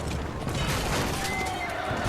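A frightened horse in a Game of Thrones episode lets out a strained whinny, buried in a dense, loud wash of crowd and action noise.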